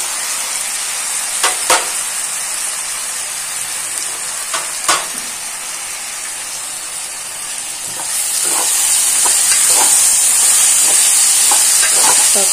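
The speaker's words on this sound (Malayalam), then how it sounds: "നമുക്ക് തക്കാളി ഇട്ട് കൊടുക്കാം." Tomatoes frying in a pan for a fish curry: a steady bright sizzle and hiss, with a few soft scraping clicks as they are stirred. The frying swells louder toward the end, with no talk.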